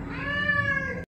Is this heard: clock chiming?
no